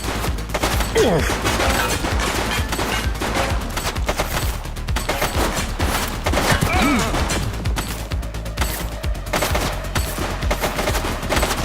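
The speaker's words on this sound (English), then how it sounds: "She's shooting!" Sustained gunfire in a police story video game, with dense, rapid shots and bursts continuing loudly throughout amid crashing and splintering impacts.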